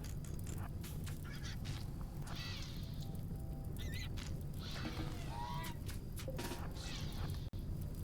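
Geese honking in Rimworld during a colony firefight: several overlapping nasal honks and squawks come and go at a moderate distance over a constant low rumbling game background, with no talking.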